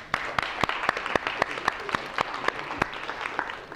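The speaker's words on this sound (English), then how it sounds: "let's give those two guys a round of applause" A short round of applause from a small university lecture audience in a machine learning class, sparse individual claps standing out distinctly over a few seconds.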